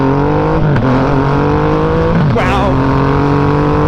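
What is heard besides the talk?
Triumph Rocket 3 motorcycle engine revving and accelerating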